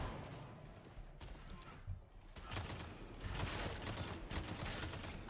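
The Vigilant Auto Gun in Warhammer 40,000: Darktide fires in rapid, rattling bursts under dense game noise. Several volleys crowd together and grow louder toward the end.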